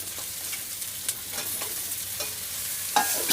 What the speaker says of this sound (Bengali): এইবারে আমি মাছটা দিয়ে দেব।